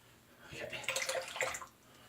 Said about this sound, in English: Throw some water on here.